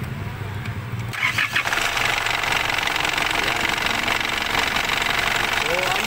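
An Isuzu D-Max 3.0 diesel engine with a charging system problem cranks briefly, then catches and settles into a loud, steady, rattly idle, with voices talking nearby.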